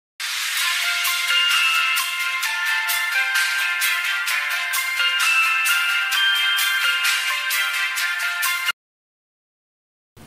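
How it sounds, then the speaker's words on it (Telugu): A mobile phone ringtone plays loud and close, a continuous bright repeating melody lasting about eight and a half seconds before stopping abruptly into silence. "ఫోన్ తీవే తల్లి"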